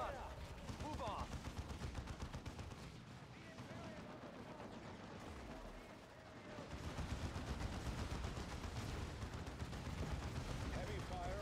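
Warhammer 40K Dawn of War 2 Chaos Rising battle gunfire rattles in dense, continuous bursts with heavy weapons fire, fairly quiet and sustained through the whole stretch.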